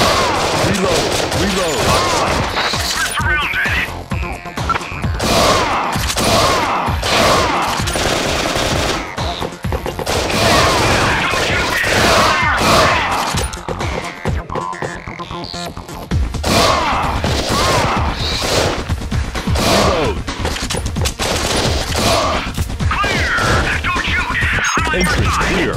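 Rapid automatic gunfire and bursts crash through a busy shooting scene in the Nintendo Wii light-gun game G.H.O.S.T Squad, with near-continuous volleys, impacts and occasional booms, while game voices call out orders.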